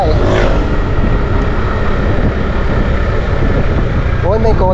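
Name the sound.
car driving past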